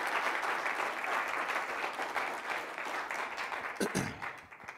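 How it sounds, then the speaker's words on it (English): An audience at an award presentation applauds with steady, dense clapping that carries through, fading slightly near the end. "So that deserves a round of applause right there"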